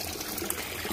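Water sloshing and pouring as a dragonfly larva is released from a container into a pond, a short close splashy gush without talk.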